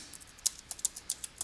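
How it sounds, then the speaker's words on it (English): A computer keyboard clacks with rapid, light keystrokes in a quick irregular run, faint and close, with no speech. "Let me correct some typing"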